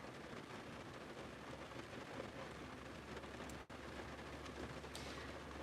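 Steady rain falls outdoors, a dense, even hiss of drops that continues without pause and with no voices over it.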